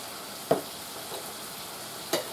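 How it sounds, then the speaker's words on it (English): Chicken sears in garlic butter in a pan with a faint, low sizzle, broken by two brief clinks or taps and no talking. "because we want to sear it, you don't move it, don't touch it around, just leave it sitting there"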